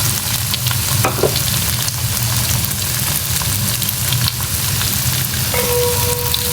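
Potato pieces with onions frying in a pan for palak potato masala curry, a loud, dense sizzle with occasional spoon clinks and stirring scrapes throughout.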